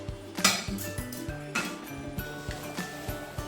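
A lid lifted off a pan of cucumber zunka on the stove and the mixture stirred, with repeated metallic clinks and scrapes of the spoon against the pan in an uneven rhythm.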